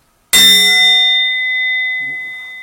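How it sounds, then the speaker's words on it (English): A small hand bell is struck once, giving a sharp bright ding that rings on with a long, slowly fading metallic tone, alone in a quiet room with a faint murmur late in the decay. "I sometimes ring my little bell, which I love."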